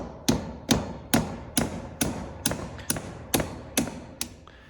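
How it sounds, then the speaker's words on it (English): About ten sharp metallic hammer strikes on needle nose pliers while repacking wheel bearings, at a steady, moderate pace, each a close, ringing tap with a brief decay. "Then hammer on the plier."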